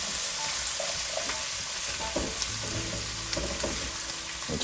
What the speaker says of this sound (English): Get our trusty wooden spoon and scrape that fond off the bottom.